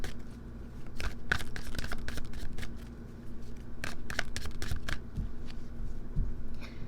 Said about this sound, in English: So let's cut the deck and see what we have for you.